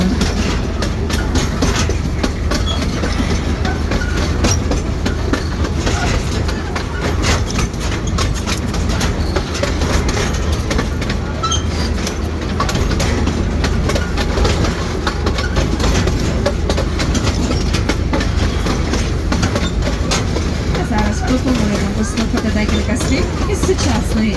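A Carpathian narrow-gauge tourist tram train running between Vyhoda and Dubovyi Kut clatters steadily along its rails, with a constant low engine rumble and rhythmic wheel clicks, loud and continuous throughout.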